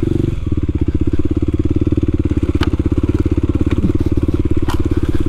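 A Kawasaki KLX300 dual-sport motorcycle ridden on a grass trail gives a loud, close, steady engine drone with a fast pulsing beat, and faint crackles of ground and brush sound under it.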